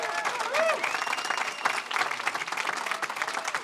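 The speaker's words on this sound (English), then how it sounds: "let's give them a round of applause" Audience at a bill-signing event on children's social media protections claps steadily for a coalition, a dense patter of hands filling the room for a few seconds, with some voices murmuring underneath.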